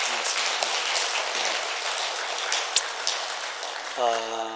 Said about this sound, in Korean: 큰 박수로 우리 격려하고 축하하도록 하겠습니다.